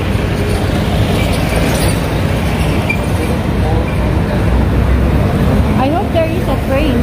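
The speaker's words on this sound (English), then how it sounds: "I think this is a mono train" A monorail train passes close by a hotel on a highway in Kuala Lumpur, a loud continuous rumbling roar that fills the whole clip, mixed with traffic noise.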